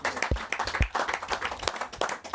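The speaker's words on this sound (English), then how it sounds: "Give yourself a big round of applause" A capacity crowd at a live football-themed TV show applauds itself, lively close clapping from many hands with a few loud nearby claps standing out, continuous throughout.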